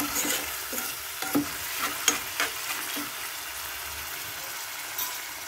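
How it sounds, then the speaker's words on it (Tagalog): Corned beef sautéing in a pan at a small home shop, with a steady soft sizzle and a handful of sharp scraping stir strokes from a utensil spaced through it. No one speaks. "Nagluto tayo ng corn beef. Nagisa tayo."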